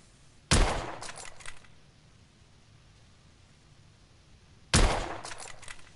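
Two sharp, loud gunshots ring out about four seconds apart in The Order 1886, each with a short rattling echo and tail, over a quiet hiss of background ambience.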